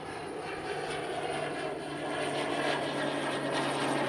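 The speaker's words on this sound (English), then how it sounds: "I got a nice plane coming." An airplane flies overhead near a trail, a steady broadband engine roar that grows slightly louder over a few seconds, with no talking.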